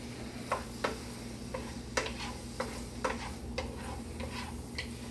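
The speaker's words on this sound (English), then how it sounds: "you know your oil is getting hot enough when you hear it sizzle a little bit" Cooking oil heating in a pan for pasta primavera gives a faint, steady sizzle, with soft irregular ticks and pops scattered through it.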